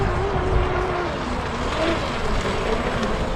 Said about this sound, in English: Oh, the brushless motor whine, so cool to hear.